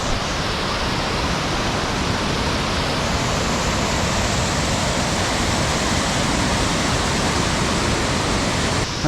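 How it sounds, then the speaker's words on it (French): Cascades of a waterfall along a hiking trail give a dense, loud, unbroken rush of falling water, steady from start to finish with no voices. "on arrive sur les premières cascades là"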